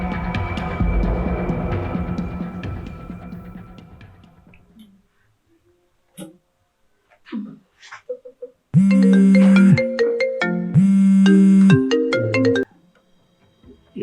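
A mobile phone ringtone chimes in two loud, bright bursts, close by and alone in a quiet indoor scene of an Ethiopian drama, following a fading passage of music.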